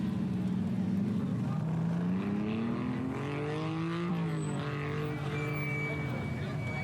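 A small kei truck at a Cars and Coffee gathering in Austin, Texas, its engine droning and rising in pitch as if near redline while barely moving, steady and fairly close, with people talking over it.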